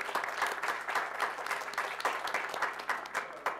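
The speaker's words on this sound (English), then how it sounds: "that's worth a round of applause in itself" A room of people at a community committee meeting breaks into applause, a continuous patter of many hands clapping at moderate volume, alone without talk for the whole stretch.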